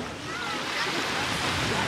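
Sea waves washing onto the beach at Primorsko, a steady broadband surf roar that fills the whole clip, fairly loud and continuous with no pauses.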